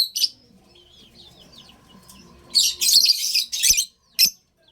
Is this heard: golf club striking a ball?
no